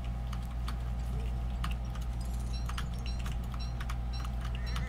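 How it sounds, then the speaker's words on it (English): Computer keyboard clicking picked up over a voice chat during a Don't Starve Together session, with rapid, irregular clacks of keys struck fairly close and sharp above a steady low hum. "my keyboard makes some noise, but I don't think it's quite that loud"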